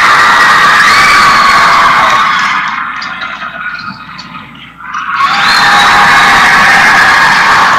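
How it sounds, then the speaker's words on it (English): A high school basketball crowd in the Lompoc Valley cheers and shouts loudly, dipping briefly in the middle before surging back into full, sustained roaring and whooping. "That's what the cheering is about"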